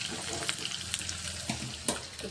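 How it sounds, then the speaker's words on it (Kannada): Hot tempering poured into sambar, a steady sizzle and crackle with a few sharp pops and clinks of a utensil against the pot, close and moderately loud. "ಸಾಂಬಾರು ಚೆನ್ನಾಗಿ ಈ ಒಗ್ಗರಣೆ ಹಾಕ್ಬಿಡಮ್ರಿ"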